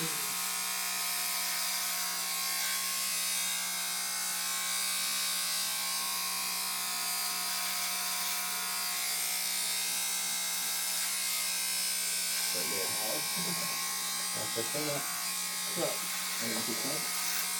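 An electric razor buzzes steadily while shaving a head, a continuous close-up motor hum that runs throughout, with people talking briefly near the end.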